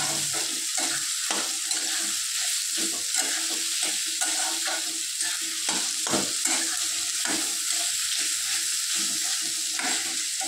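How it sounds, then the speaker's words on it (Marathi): Onions for an egg masala fry in a pan, giving a continuous close hiss of sizzling oil with regular scraping strokes from stirring throughout and no talk. "कांदा चांगला ब्राऊन करून घ्यायचा।"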